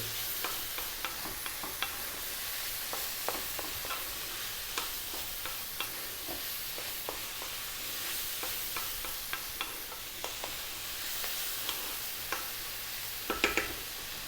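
Spices and rice stir-fried in a pan for vegetable fried rice give a steady close sizzle, broken by repeated light scraping and tapping strokes from the stirring, with no voices.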